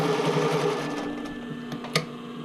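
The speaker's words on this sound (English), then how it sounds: "I'm just going to stitch it across at that little point." Sewing machine stitching across a sports bra waistband in one short, rapid whirring run, with a couple of faint clicks as it stops.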